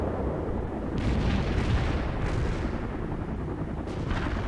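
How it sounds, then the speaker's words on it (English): Incoming artillery fire in the World in Conflict strategy game, a continuous roar of heavy booms and blasts that rises around the first second and keeps churning, with a few sharper cracks near the end. "We have incoming artillery."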